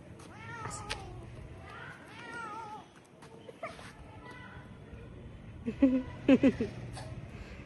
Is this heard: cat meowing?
yes